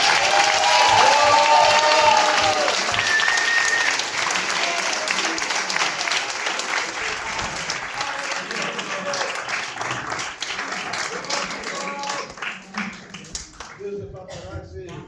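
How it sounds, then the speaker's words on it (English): A room applauds a player at a BSA Golds Player of the Year awards night, the clapping loud at first and then gradually thinning and fading while people talk and chatter over it. "a round of applause for Callum Stewart"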